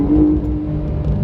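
A 2022 Porsche 911 Carrera engine pulls hard under acceleration, a steady loud rumbling drone heard from inside the car, rising slightly early on then holding, with no talk over it.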